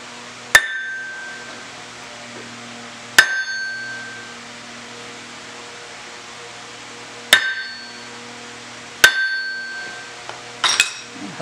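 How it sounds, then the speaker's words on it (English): A small dead blow hammer taps a metal plate five times at irregular intervals, each a sharp, ringing knock in a quiet workshop. "tap this plate with this little dead blow, transfer my punch marks"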